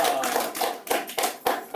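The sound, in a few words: audience clapping at a lecture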